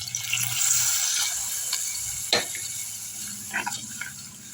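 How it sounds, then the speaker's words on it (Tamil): Water trickles and splashes into a pot of drumstick sambar, a light pouring sound with a few clinks of metal nearby. "ஒரு டம்ளர் தண்ணி ஊற்றிப்போம்"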